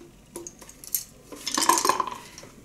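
A handful of crochet hooks clink and rattle as they are picked up and shuffled, light metallic taps followed by a busier jangle, close and quiet.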